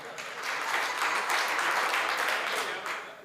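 Steady audience clapping at a Hindi comic poetry gathering (hasya kavi sammelan), a full, continuous wash of many hands that holds for several seconds with a loud, even texture.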